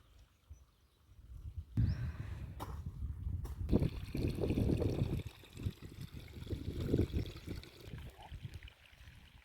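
Irrigation water running into a cotton field on its first watering, a soft rushing gurgle that swells after a quiet start and keeps flowing unevenly, faint and somewhat distant, with no voices.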